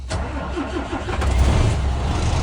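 A MAN TGX truck's diesel engine cranks and catches, then settles into a loud, close, rumbling idle, with no one talking.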